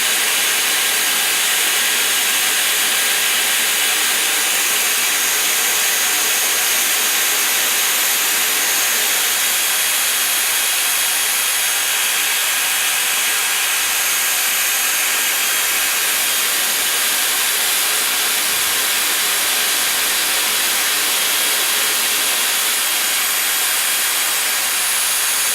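A Dyson Airwrap hair styler blows air in a steady, loud, bright whoosh that holds unbroken for about half a minute, close and alone with no voices.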